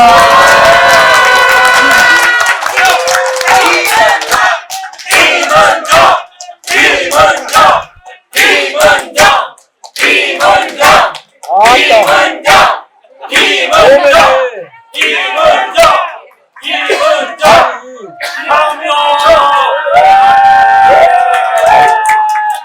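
A Korean talk-show audience at a live event in a café hall cheers and shouts loudly in bursts, with applause and screams rising and falling across the whole stretch, and only brief pauses between waves.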